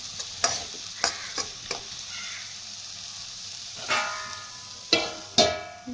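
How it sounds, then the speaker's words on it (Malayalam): Beetroot thoran stirred and cooking in a pan over a low flame, with a soft, steady sizzle under sharp, intermittent clinks of a spoon against the pan. "ലോ ഫ്ലെയിമിൽ വെച്ച് വേവിച്ചെടുക്കാം."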